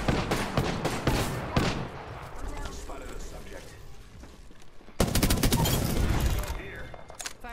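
Rapid automatic gunfire and scattered shots in the video game Apex Legends, dense and busy, with a heavier burst near the end and a player's voice at times.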